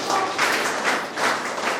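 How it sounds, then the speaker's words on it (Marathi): Applause at a school building inauguration ceremony, with a crowd clapping vigorously in uneven swells for a couple of seconds and no speech over it. "त्या संकल्पासाठी आपण सर्वांनी एकदा जोरदार टाळ्या वाजवल्या"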